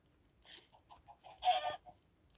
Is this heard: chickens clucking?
yes